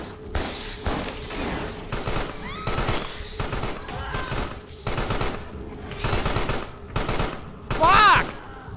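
Gunfire rains on the player in the creature-horror game Carrion, with repeated bursts of rapid shots in irregular volleys, loud and close, plus a brief squealing creature cry near the end.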